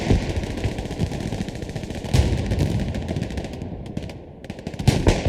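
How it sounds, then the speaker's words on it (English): Sustained machine gun fire in the World War II shooter Hell Let Loose during a competitive match, dense rapid bursts layered with distant gunshots, steady and loud throughout with brief louder volleys. "there is still a lot of machine gun fire coming in"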